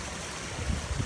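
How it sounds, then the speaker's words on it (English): Faster-moving water rushes down the lower cascades of a newly built pond waterfall, a steady close wash of broadband noise with low churning surges, no voices. "We got some really nice cascades down here at the bottom. A little bit faster moving water here."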